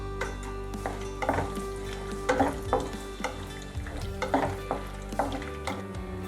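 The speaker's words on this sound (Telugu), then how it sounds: "ఆయిల్ వేడైంది కాబట్టి మనం పోపు దినుసులు యాడ్ చేసుకుందాం. దీంట్లోకి ఫస్ట్ మినపప్పు, జీలకర్ర, ఎండుమిర్చి," Urad dal, cumin and dried red chillies crackle and sizzle in hot oil for a tempering. A spoon stirs and scrapes against the pan in repeated bursts over the steady frying.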